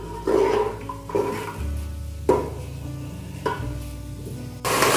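Turmeric, chili and salt frying in a pan give a low sizzle under repeated stirring strokes and clinks of a spoon against the pan, with a louder burst of hissing at the very end.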